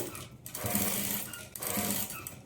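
A sewing machine runs in two steady bursts with a brief pause between, top-stitching beside the piping on a blouse, its close mechanical whirr and needle chatter filling the clip.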